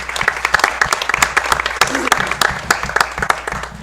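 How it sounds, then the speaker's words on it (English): An audience at a school board meeting claps for student musical performers, a lively, close flurry of many hands applauding continuously, with a voice briefly heard underneath. "So another round of applause to them."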